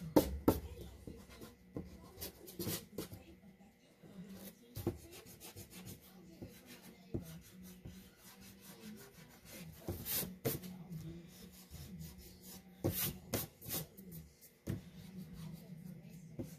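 An eraser rubs pencil marks off a flamingo drawing on watercolor paper, giving soft, irregular scrubbing strokes in bursts with brief pauses, close and quiet.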